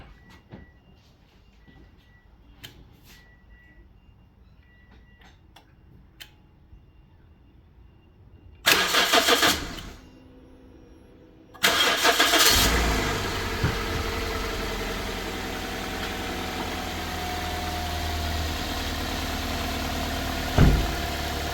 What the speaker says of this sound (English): then start your car.